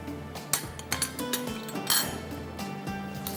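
Cooked white rice going into a cooking pot in a home kitchen, heard as scattered metallic clinks and knocks of a spoon against the pot, with a steady faint hum underneath and no talking.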